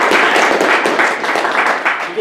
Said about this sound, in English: let's give our detective a round of applause